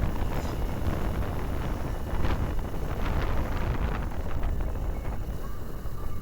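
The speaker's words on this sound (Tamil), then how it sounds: "காற்று சும்மா ஜில்லுன்னு அடிக்குது" Cool wind rushes and buffets against the microphone during a motorbike ride toward Munnar, a steady, loud, rumbling roar with no voices heard.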